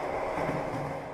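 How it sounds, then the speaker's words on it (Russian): Steady low rumble of a Moscow–Lipetsk passenger train running, a continuous broadband roar with no voices. "Итак, обычный поезд Москва-Липецк."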